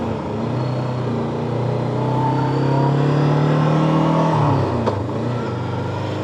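A big motorcycle on a wet mountain road on the Mayon Skyline, Albay, passes close with a loud sustained engine drone that climbs in pitch, then drops sharply as it goes by, with tyre hiss on the wet surface.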